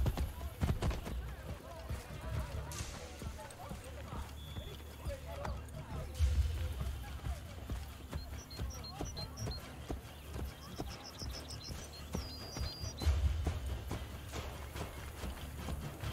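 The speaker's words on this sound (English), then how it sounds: "the horses stomping to the beat of the music" Horses in Assassin's Creed: Brotherhood clip-clop and stomp in a steady rhythm beneath game music and a talking voice, with heavier low thuds standing out at a few points.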